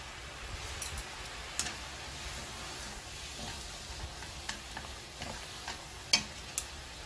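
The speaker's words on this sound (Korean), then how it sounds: "물이 끓으면 국수를 이렇게 쫙 펼쳐 주셔요." Noodles spread into a pot of boiling water, giving soft crackling and scattered ticking bubbles over a faint steady hiss, close but quiet, with no talking.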